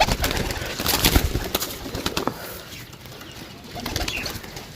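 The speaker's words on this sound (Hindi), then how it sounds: "माशाल्लाह बहुत आउट क्लास कबूतर है दोस्तों" Pigeons at a pigeon keeper's loft in Sarai Alamgir, Gujrat, coo low and close amid bursts of wing flapping and handling rustles, with no talking.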